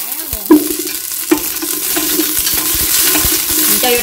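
Leaves dropped into hot cooking oil in a pot burst into a loud, close sizzle with two sharp crackles as they hit, then settle into a steady frying hiss, with no talking.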